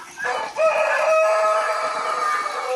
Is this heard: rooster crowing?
yes